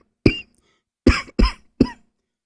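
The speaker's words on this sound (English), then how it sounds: "I'm not coughing at him, I'm ill." Four sharp human coughs, one alone and then three close together in a quick cluster, loud and near with short silences between them.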